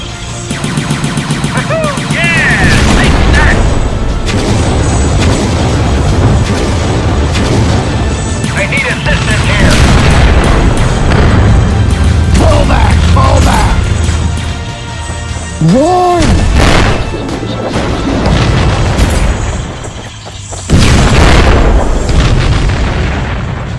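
Mortar fire and explosions in a battle scene with clone troops, a dense barrage of loud booms, blasts and crashes repeating throughout, with shouted voices and whistling sounds mixed in.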